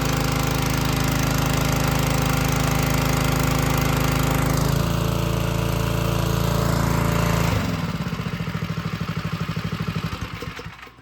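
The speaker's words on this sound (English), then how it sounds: "Here, go ahead and turn the motor." A motor drives induction mixing of BIO-GEL dry granules, a loud, steady droning hum that shifts pitch partway through, then winds down with a juddering, pulsing rattle as it slows to a stop.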